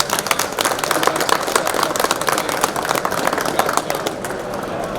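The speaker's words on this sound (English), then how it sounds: "So big round of applause" Sustained applause from a drag racing audience honoring X275, Ultra Street and Limited 235 champions, dense rapid clapping filling the space and holding steady before thinning slightly at the end, with faint crowd murmur underneath.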